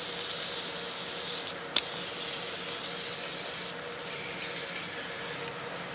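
A small wooden muddler is sanded through successive sandpaper grits, producing a loud, steady close-up rasping hiss with brief pauses between strokes.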